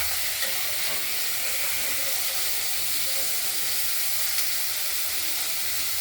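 Poppy seed paste sizzling as it fries in a pan, a loud steady crackle and hiss that stays close and continuous, with faint stirring noises underneath and no talk.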